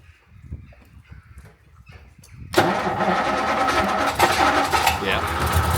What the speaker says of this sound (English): Well, that is a nice deep rumble.